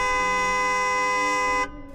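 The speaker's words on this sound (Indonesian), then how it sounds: "Klakson panjang berbunyi memekakan telinga." A car horn, from an old Toyota Kijang, blares in one long, loud, sustained blast, then cuts off abruptly, leaving a faint rumble.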